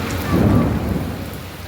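Thunder rumbles low and swells briefly during heavy rain in Alexandria, fading back under a steady hiss of rain falling on surfaces nearby.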